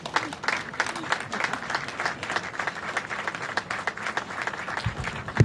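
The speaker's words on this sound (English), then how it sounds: "Let's give Eleanor another round of applause" Crowd applause at the unveiling of the design for the new Frederick Douglass Memorial Bridge: dense, continuous clapping from a sizable audience that holds steady for several seconds.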